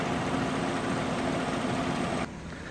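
A 2015 Chevrolet Silverado LTZ with a 5.3 liter Ecotec V8 idles steadily at low volume, a smooth even hum that drops abruptly to a quieter level near the end, with no voices.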